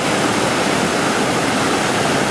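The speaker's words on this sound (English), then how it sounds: "Another nice waterfall." A waterfall along Gill Brook in the Adirondacks, a steady, loud broadband roar of falling water, close and unbroken.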